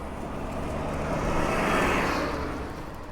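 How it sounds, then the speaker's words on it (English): A bus passes by on the road nearby, a broad rushing roar that swells to a peak and fades away over a few seconds, with no talking. "oh, here comes the bus. I don't want to get run over"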